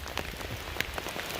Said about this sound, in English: So it's windy as hell up here and raining like hell.